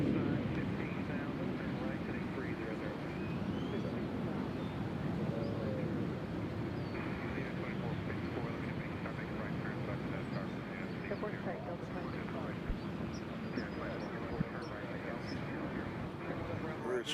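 An airplane comes in to land at Nashville International Airport, its broad, steady roar rumbling continuously from a distance while people talk nearby.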